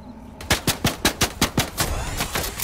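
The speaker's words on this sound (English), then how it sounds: "They're shooting us down." Automatic gunfire in the video game Fortnite, a rapid burst of about ten evenly spaced loud shots after a brief quiet start, followed by a noisy tail.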